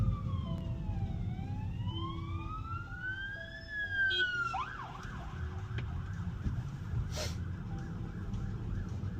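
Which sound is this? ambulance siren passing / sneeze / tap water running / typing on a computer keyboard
ambulance siren passing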